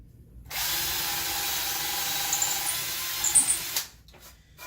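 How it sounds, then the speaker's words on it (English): A small power drill with a 3/8-inch bit bores into wood in one steady, close whirring burst of about three seconds, then stops with a couple of light clicks. "This is a 3/8 inch bit, which is at the maximum capacity for this small drill"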